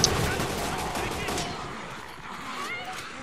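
Pistol shots ring out in the video game Resident Evil 6, a quick burst of gunfire at the start that trails into a low, noisy game ambience with reverberant tails.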